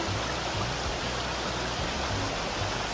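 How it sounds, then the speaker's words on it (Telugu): A mountain stream flows down over large rocks from the hills, a dense, continuous rushing roar of water, loud and steady throughout with no voices. "ఇది పైకొండ నుంచి వాటర్ అనేది కిందికి ఫ్లో అవుతుంది"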